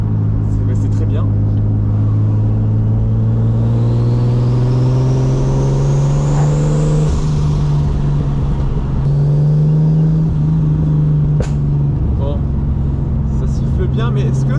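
A turbocharged BMW E36 325i accelerates from low revs under light throttle. A loud, close engine drone climbs steadily in pitch, with a thin rising turbo whistle building over it midway.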